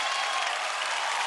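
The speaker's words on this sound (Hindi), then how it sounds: "जोरदार तालियां इनके लिए।" A television show's studio audience applauds the judges with loud, dense clapping that fills the whole moment without a break, no voices cutting through.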